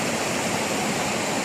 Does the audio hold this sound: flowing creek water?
yes